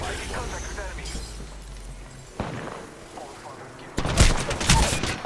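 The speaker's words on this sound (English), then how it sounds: "I got shot by someone on the stairs." Gunfire in the video game Apex Legends, with a burst of rapid shots near the end set against scattered earlier impacts and game sounds, while a player talks over the action.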